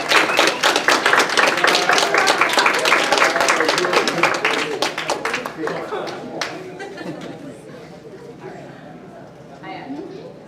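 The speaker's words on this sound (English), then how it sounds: "So definitely a big old round of applause for that." A crowd at a convention opening ceremony claps loudly and densely for several seconds, then the clapping thins and fades, with chatter and scattered voices under it.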